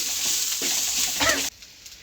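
Crushed garlic and ginger sizzle steadily in a hot pan as a spoon stirs through them, then the frying drops to a faint hiss near the end.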